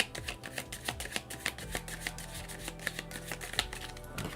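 Tarot cards riffled and slid in a steady run of crisp papery slaps and flicks, close and fairly loud, with a brief softer shuffle in the middle and no talking.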